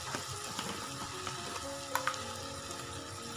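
Finely chopped tomatoes frying in a pan, a steady soft sizzle with light stirring scrapes and a couple of small pops, close up and without speech.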